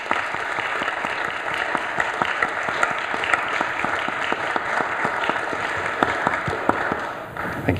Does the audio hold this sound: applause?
yes